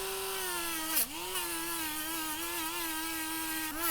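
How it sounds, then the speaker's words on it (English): A rotary tool with a soft brush wheel and polishing compound buffs welded plastic. It gives off a steady, close, high whine that dips briefly in pitch twice as the brush bears down under load. "Got a little bit of that polishing compound on the wheel."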